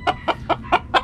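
Black hens of Black Hat and Spartan breeds give five short, evenly spaced clucks in quick succession, close and clear over faint background noise.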